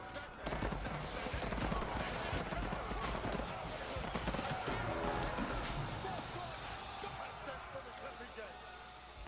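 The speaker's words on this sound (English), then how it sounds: "Apparently we're shooting at fish now" Gunfire aimed at fish in the strategy game Age of Empires 4: rapid crackling volleys of musket and gun shots, dense and continuous, with someone talking over the battle noise.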